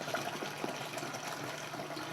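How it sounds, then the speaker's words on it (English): Water pouring steadily into wine juice in a 6-gallon container, a soft continuous gushing fill with no talking. "We'll have to add just a little bit more water to bring it up to the 6-gallon mark."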